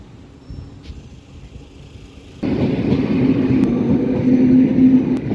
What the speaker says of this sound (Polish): Jak idę do mojej babci, i jak do niej zadzwonię, to właśnie jedzie pociąg.